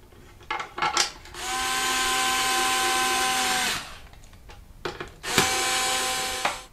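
A power drill drives screws back into a pool multiport valve, two bursts of steady whirring, one long and one shorter, separated by quiet handling clicks.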